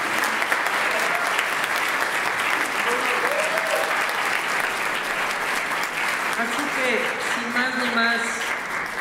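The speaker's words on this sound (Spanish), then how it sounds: "así que también un aplauso para toda la institución." Loud, steady applause from a hall audience at a tribute ceremony for a bibliophile award, continuous dense clapping throughout with a voice speaking briefly over it.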